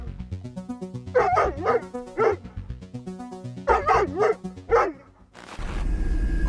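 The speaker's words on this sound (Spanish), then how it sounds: "Empezaron a ladrar los perros." Several dogs barking at night in repeated bursts, fairly loud and close, with yips mixed in, followed by a short burst of rough noise near the end.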